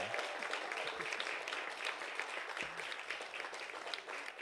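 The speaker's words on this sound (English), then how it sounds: "let's give an amazing round of applause to Rahsaan" Applause from an audience at a talk as a speaker is introduced, a continuous, fairly dense patter of many hands clapping at moderate volume throughout, with no voices standing out.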